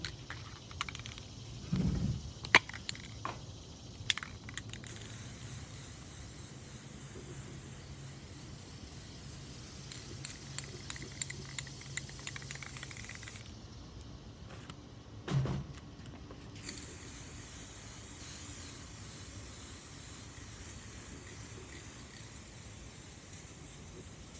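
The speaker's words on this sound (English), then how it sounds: "This is the Rust-Oleum Paint and Primer Metallic Gold." A can of Rust-Oleum Paint and Primer in Metallic Gold sprays a ginger jar in two long hissing bursts separated by a short pause, with a few faint clicks and handling noises around them.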